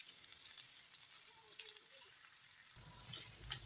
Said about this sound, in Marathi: गॅस आधी कमी ठेवायचा आहे, नंतर वाढवून व्यवस्थित छान गोल्डन कलर येईपर्यंत कलसायच्या आहेत सर्व भाज्या